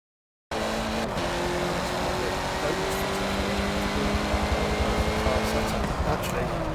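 Video game car fitted with an i6 Rally engine drifts in a steady, continuous engine drone with a sustained tonal whine, loud and close throughout after a brief silent start.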